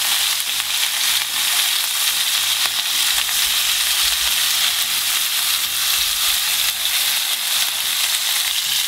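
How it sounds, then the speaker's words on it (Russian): Pork ribs fry in hot oil toward a golden crust, giving a loud, steady, unbroken sizzle that carries on alone with no talk. "Ребрышки нужно хорошенечко прожарить, минут 17-18, до красивой золотой корочки."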